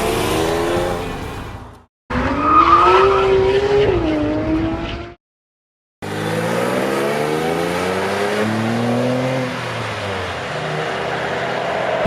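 A 997-generation Porsche 911 GT3 with a naturally aspirated engine pulls hard through rising revs, the loud rasping note climbing and dropping across several gear changes, with a brief silent cut between runs.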